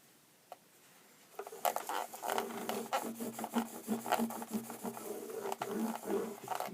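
A cloth rubbing excess cleaner off the fretboard of an Epiphone PR-600ASB acoustic guitar, close rhythmic scrubbing strokes in quick succession, fairly quiet and alone.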